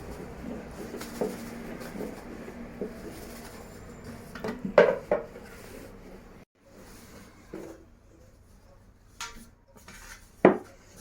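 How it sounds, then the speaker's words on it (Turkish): A wooden rolling pin knocks against stacked homemade baklava dough sheets to shake off excess starch, making irregular sharp taps and clatters, with a few louder knocks among softer rustling. "Oklavamızı alıp biraz bu şekilde vurarak fazla nişastasını döküyoruz"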